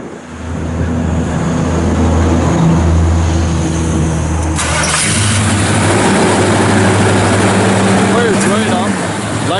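A 1956 Chevrolet Bel Air two-door post with an electric choke cranks and fires up in freezing cold, then settles into a loud, steady, slightly high idle close by.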